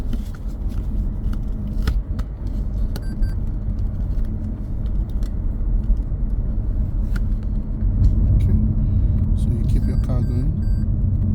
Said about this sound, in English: Car going.